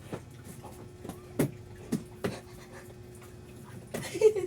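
A dog pants in quick, uneven puffs close by, broken by a few sharp knocks and a steady faint hum, with a louder burst of noise near the end.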